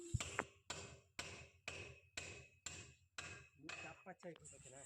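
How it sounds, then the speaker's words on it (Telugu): A hammer drives a pin into a bolt while fitting cooling sheets on the front of a house: eight sharp, ringing metallic strikes at a steady rhythm, close and loud, with no talking. "ఆ పిన్నిని లోపల దాకా కొట్టాలి"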